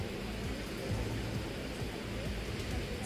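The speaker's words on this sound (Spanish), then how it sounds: "tengo la impresión también de que la lluvia está un poco menos intensa" Rain falls on the Santa Marta canal in Maipú during a storm, making a dense, steady wash of drops and water noise. The sound is continuous and even throughout, with no clear speech.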